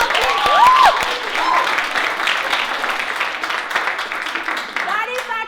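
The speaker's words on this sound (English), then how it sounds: "Let's give our ladies a big round of applause, please." Audience applause at a Harvard Extension event, a broad wash of clapping from the crowd, with cheering voices and whoops rising over it at the start and people talking and calling out through the rest.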